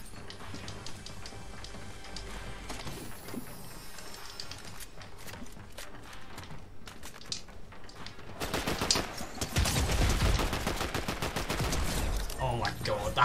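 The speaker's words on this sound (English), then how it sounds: "Oh my god, the hand cannon's so satisfying" Hand cannon gunfire in the Fortnite video game: sparse, sharp shots over busy game sound at first, then a dense, louder stretch of rapid repeated blasts near the end.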